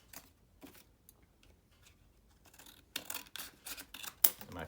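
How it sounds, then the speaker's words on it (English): Scissors snip through a paper plate as it is cut into a square mask shape, with sparse quiet clicks at first, then a quick run of louder, crisp cutting strokes near the end. "I'm just gonna cut it into a square."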